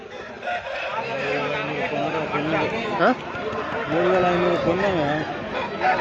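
A rooster crows at the Sunday poultry market in Pileru, its drawn-out call rising partway through amid steady crowd chatter and people talking nearby.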